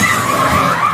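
A car skids with loud, sustained tire screeching during a crash into a storefront, the squeal steady and close throughout.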